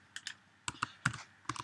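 Several quick keystrokes on a computer keyboard as a Linux install command is entered on a Raspberry Pi, coming in small clustered bursts of clicks, close and fairly quiet, with no talking.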